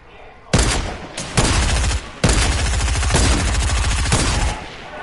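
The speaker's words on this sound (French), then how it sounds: "Tire avec ton pistolet mitrailleur" Submachine gun fire in a video game comes in loud, close bursts of rapid automatic shots, several long strings separated by brief pauses.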